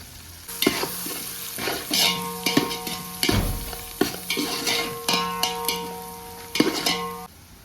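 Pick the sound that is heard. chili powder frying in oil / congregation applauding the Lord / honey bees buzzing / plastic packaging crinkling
chili powder frying in oil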